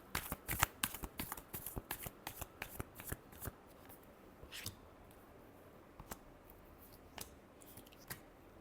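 Tarot cards are shuffled by hand: quick, close riffling bursts early on, then sparser soft taps and flicks, all quiet and without speech.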